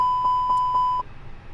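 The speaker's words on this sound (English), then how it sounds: "APU fire test. Weird. There we go. Sometimes it doesn't want to make the beeping." Four evenly spaced electronic beeps from the APU fire test in an A320neo cockpit in Microsoft Flight Simulator, steady pure tones that stop abruptly, leaving quiet cockpit hum.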